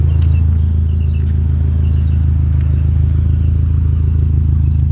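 A 2005 Chevy Cobalt SS with a 5-speed transmission and 4-inch exhaust pipes running the full length of the car idles loudly nearby, a steady deep low rumble with a fast, even pulse and no voices.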